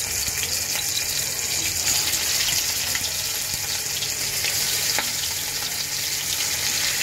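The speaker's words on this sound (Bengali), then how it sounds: "এখন আমি এটাকে তেলের মধ্যে ভাজবো।" Pieces of nola fish fry in hot oil in a wok, giving a loud, steady, close sizzle that crackles without pause for several seconds, with no talking.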